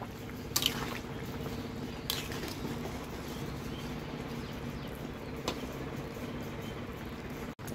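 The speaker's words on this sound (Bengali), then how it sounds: "ঝোলটা আমার ফুটে উঠেছে, এবার মাছগুলো আমি দিয়ে দিচ্ছি।" A fish curry gravy simmers with tengra fish and cauliflower, giving a low bubbling burble and occasional soft drips and splashes, quiet and close with no voices.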